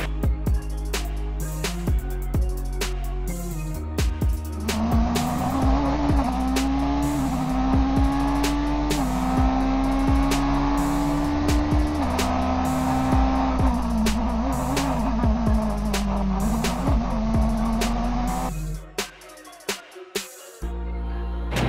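Race cars run on the Long Beach Grand Prix street circuit between concrete walls, a loud, steady engine whine from an onboard view rising and shifting through gears for about twenty seconds, with clicks and bumps, easing off near the end.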